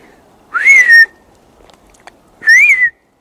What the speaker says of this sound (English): Hard to whistle with a chewing.